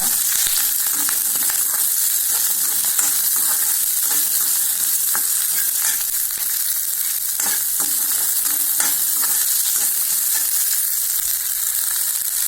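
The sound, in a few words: onion, curry leaves and chillies frying in pan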